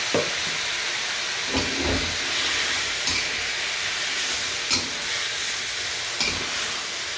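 Broccoli stir-fries with oyster sauce in a pan, a steady close hiss and sizzle broken every second or so by scraping stirs, with no voices.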